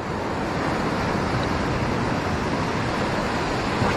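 Ocean surf breaking into foam on a beach where robalo are fished, a dense, steady roar of waves and wash with wind buffeting, loud and continuous throughout, no voices.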